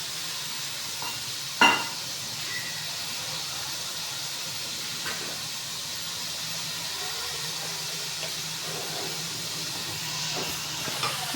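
Masala for aloo matar roasting in a pan, a steady soft sizzle and hiss throughout, with one sharp clink of a utensil early and faint stirring scrapes.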